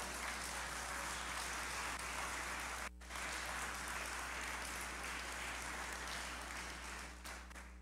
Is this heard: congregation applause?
yes